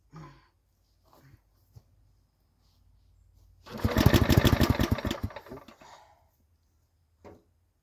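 A project rat truck engine is cranked with the choke open: a brief burst of rapid sputtering pulses lasts about two seconds amid near silence, with a few small knocks and clicks before and after.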